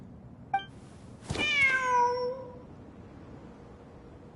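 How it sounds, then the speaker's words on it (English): A cat meows in the video game Genshin Impact, a single drawn-out falling meow after a brief chirp, clear and fairly quiet over a soft background hum. "Wait, there it is! The cat!"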